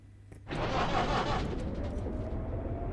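Locomotive engines starting up in the train simulator Derail Valley, a sudden loud rumbling roar kicking in after a brief pause and settling into a steady idling drone.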